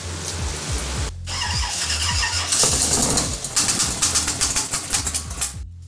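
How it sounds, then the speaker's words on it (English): An engine runs roughly while its carburetor pops, an uneven rumbling idle broken by irregular sputtering bursts and short squeals, close and loud, before the sound cuts off abruptly. "Sounds like the carburetor's popping."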